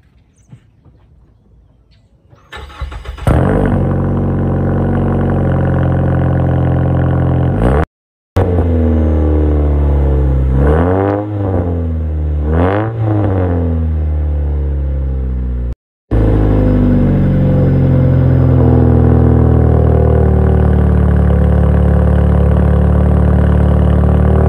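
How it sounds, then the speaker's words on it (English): A 2012 Ford Fusion cold start: starter cranking catches into a loud, steady idle rumble, broken by a couple of brief cutouts and a few rising and falling revs, with no talking. "I'm gonna give it a nice little cold start for you guys."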